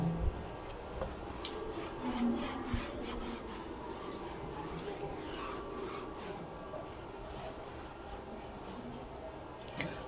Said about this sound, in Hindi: तो मैं इसे रब करता हूं।